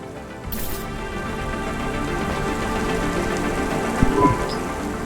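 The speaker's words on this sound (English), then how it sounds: "Don't let all the rain get you down." Steady rain falls in the Cloudpunk game's city, a continuous dense hiss of drops on surfaces throughout, with a brief faint knock near the end.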